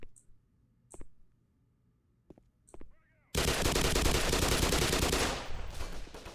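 An MP submachine gun in the video game Black Mesa sounds first as a few sharp clicks and taps, then a loud, continuous burst of rapid automatic fire takes over and runs to the end.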